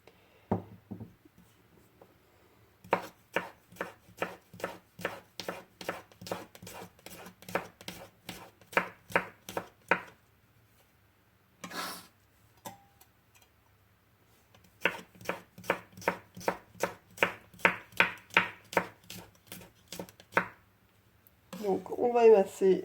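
Garlic cloves are finely chopped with a knife on a board in a home kitchen, a fast steady run of sharp close taps in two bursts separated by pauses, with a brief voice at the end.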